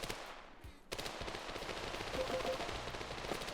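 Gunfire in a shooter video game on a map called Sandstone, a rapid automatic burst that cuts in after a brief pause and then continues as steady, dense shooting.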